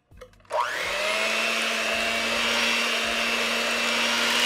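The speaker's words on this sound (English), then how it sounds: "And then we're gonna give it a mix before we add the remaining ingredients." An electric mixer or blender starts up with a short click and a rising whine, then runs steadily and loudly while blending ricotta cake batter, with no talking.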